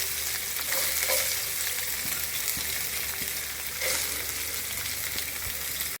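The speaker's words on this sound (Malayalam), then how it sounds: "അതിലേക്ക് നമുക്ക് തേങ്ങാക്കൊത്ത് ഇട്ട് കൊടുക്കാം." Coconut pieces fry in hot oil with already-popped mustard seeds, a steady dense sizzle with faint stirring scrapes running throughout the clip, close and fairly loud with no voices.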